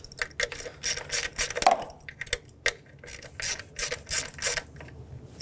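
A ratchet snugs down a bolt on the rear valve cover of a 2013-2020 Nissan Pathfinder 3.5L V6, giving a run of short, close, rhythmic clicking bursts with brief pauses between strokes.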